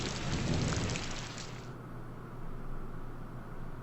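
Spring rain in the Strategic Command video game makes a steady hissing patter, stronger for the first second and a half, then settling into a softer continuous wash.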